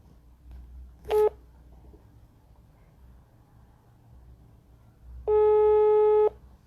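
An outgoing telephone call gives its ringing tone: a brief electronic beep, then a pause, then a steady tone lasting about a second. Both are clear and loud over a faint hum.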